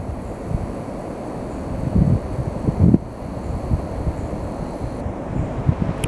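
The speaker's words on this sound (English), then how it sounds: "what you hear right now is the river down there" Steady broadband rushing of flowing water, like a river below, with a few louder gusts of wind noise buffeting the microphone.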